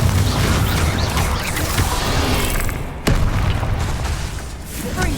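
Bombarda spell explosions in the Hogwarts Legacy video game, loud rumbling blasts with a sharp crack partway through and a heavy booming tail, under busy combat noise.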